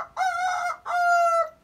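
A rooster in a backyard chicken coop crows twice in close succession, loud and near, each call a long strained cock-a-doodle-doo with no talking over it.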